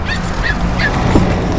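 A dog left in a truck barks and whimpers in short close yips, loud and continuous over roughly two seconds.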